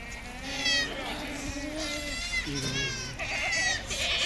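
Goats bleat repeatedly, wavering cries from a few animals close by, alongside people talking.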